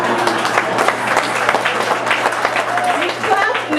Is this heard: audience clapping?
yes